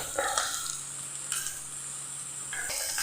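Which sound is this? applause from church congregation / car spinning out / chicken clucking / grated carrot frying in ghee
grated carrot frying in ghee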